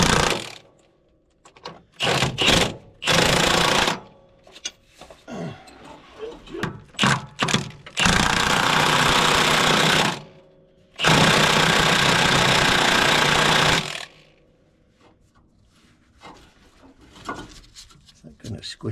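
A home-built engine fires up for its first start and runs rough, sounding in loud bursts of several seconds with quiet gaps between, as a voice talks in the pauses.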